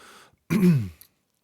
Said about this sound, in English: hearing me clear my throat and swallow this peanut butter sandwich